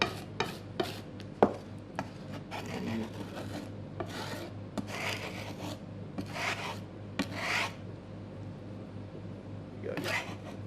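Knife working garlic and ginger into a paste on a chopping board, giving irregular scraping, rubbing strokes and occasional sharp taps close by over a low background hum.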